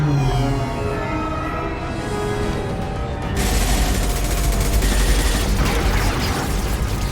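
Gunfire in Mass Effect 2, heard as a loud, dense burst of shots and booms that cuts in abruptly after a quieter hum and carries on close and continuous.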